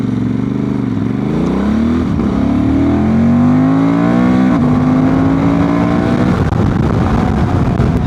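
Honda Transalp 750 motorcycle with a remapped ECU accelerating hard from 0 to 100 km/h, engine note climbing steeply through several gear changes, loud and close, with no talk.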